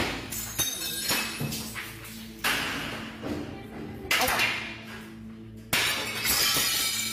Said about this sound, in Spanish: integrantes de la CENTE rompieron cristales